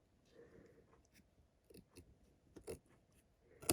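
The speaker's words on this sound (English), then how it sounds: "And I have to trim this a bit because it's," Scissors trimming paper for a handmade card make a few quiet, close snips and crisp rustles, spaced irregularly.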